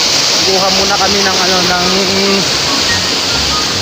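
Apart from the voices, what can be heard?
water flowing toward a river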